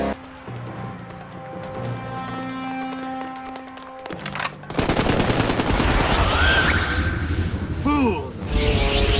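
Gunfire in an animated movie scene, a sudden loud burst of rapid shots and clatter that follows a quieter musical stretch, with ricocheting whines on top.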